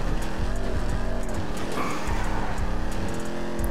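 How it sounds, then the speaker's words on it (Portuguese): A car in the GTA RP video game skids and drifts, its engine roaring continuously while tire squeal rises midway, loud and close throughout. "Esse carro derrapa muito."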